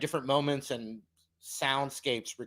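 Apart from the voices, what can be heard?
No everyday noise stands out behind the speech.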